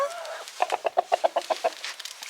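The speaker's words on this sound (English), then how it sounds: "Bad chicken." A rooster with a swollen wattle clucks in a quick, evenly spaced run of about ten soft, close clucks, fading into quieter background sound.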